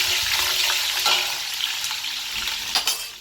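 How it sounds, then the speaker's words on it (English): Onions and green spice sizzle in a pan with a dense, steady hiss of frying close up, broken by a few stirring scrapes and clinks. "put my onions and my green spice. Let it fry for about 5 seconds."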